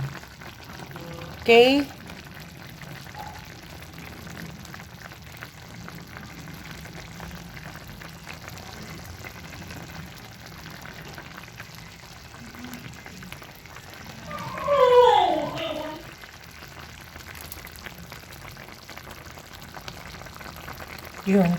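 Hot dog sauce seasoned with soy sauce bubbles in a pot, a faint steady boil with brief louder stirring or handling noises and a short spoken word.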